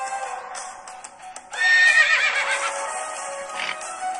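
Video game horses whinny loudly in a sharp, bright burst midway through, preceded by softer scattered calls and followed by a sustained lower layer of neighing and faint hoof clops.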